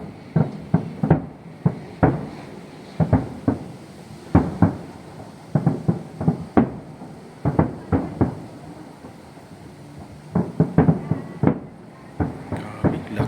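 Repeated sharp booming bursts of fireworks, irregular and fairly loud, some in quick clusters, with a faint background hum between them.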